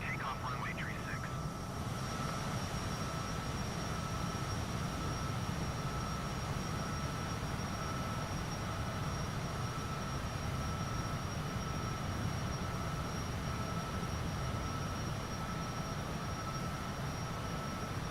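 A Cessna in a flight simulator game rolls for takeoff with a steady, droning engine roar that holds constant and fairly loud from start to finish, with a brief burst of other sound at the very beginning.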